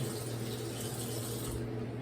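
Water runs steadily from a tap into a sink or a cupped hand before brushing with tooth powder, a quiet continuous hiss and splash heard alone.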